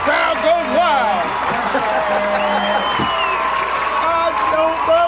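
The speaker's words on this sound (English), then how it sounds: "And the crowd goes wild." Loud sustained crowd roar from a 1994 high school football game after a touchdown, dense cheering and whooping that stays steady from start to finish.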